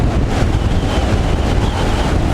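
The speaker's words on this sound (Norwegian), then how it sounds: "Får vinden midt imot." A strong headwind buffets the microphone on a mountain plateau in Hardangervidda, a loud, constant roaring rumble with no pauses and no voices.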